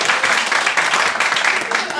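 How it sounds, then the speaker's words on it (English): A crowd at an evening community event claps and applauds, a short loud burst of many hands with some voices mixed into the noise. "Clap for that."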